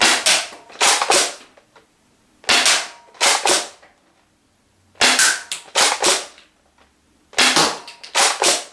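Bursts of sharp, rapid pops as a foam dart blaster fires darts in quick groups of several shots, separated by short pauses, loud and close.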